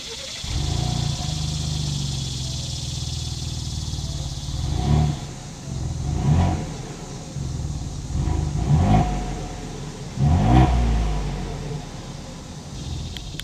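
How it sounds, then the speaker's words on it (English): A 2021 Ford Bronco Wildtrak with a single exhaust idling and then revving repeatedly, several loud swells rising and falling over a steady rumble, heard close at the rear. "As always, here is that exhaust clip."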